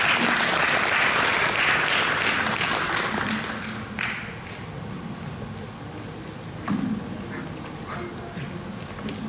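Audience applause at an academic conference on the Namwon Sajikdan rite fills the room loudly after a presentation, then thins to scattered claps with low murmuring and a brief rustle.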